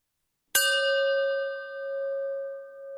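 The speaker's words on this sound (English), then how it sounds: "And here comes the chime." A single bell-like chime rings out over online meeting audio, striking once with a bright attack and then sustaining a clear ringing tone that slowly swells and fades, with no talk.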